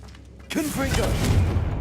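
A Confringo blast spell from the Hogwarts Legacy video game erupts about halfway in as a sudden loud burst, followed by a sustained fiery roar, with a character's voice shouting over the start of the blast.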